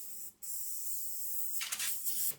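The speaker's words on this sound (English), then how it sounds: "Also spray down the jet unit" A steady hiss of a hose spraying water on a jet ski's jet unit, continuous and close, with a brief cutoff near the start and a few sputtering bursts toward the end.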